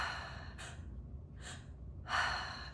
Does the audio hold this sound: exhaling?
yes